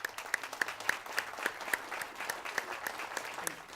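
A Veterans Day ceremony audience breaks into applause at an enlistment oath, a moderately quiet, continuous patter of many hands clapping with some sharper individual claps standing out.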